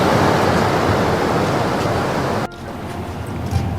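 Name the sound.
sea waves crashing at Kavaratti, Lakshadweep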